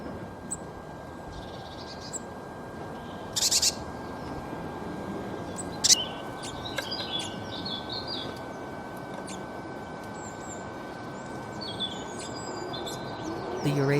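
Eurasian blue tit giving short, high chirps and brief thin calls, scattered and fairly faint over a steady background hiss, with a few sharper notes standing out.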